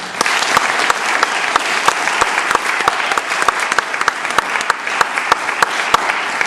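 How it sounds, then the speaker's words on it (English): An audience at a high school concert choir performance applauds three-year seniors with steady, dense clapping, sharp individual claps standing out close by, sustained throughout. "A round of applause for my 3-year seniors."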